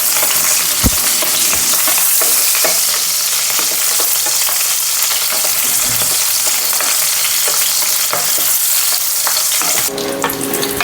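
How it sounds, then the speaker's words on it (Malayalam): Green chilies sautéing in oil in a frying pan, a steady loud sizzle running throughout with occasional scrapes and clinks of stirring, ending in a brief clatter. "നന്നായിട്ടൊന്ന് വഴറ്റിയെടുക്കാം"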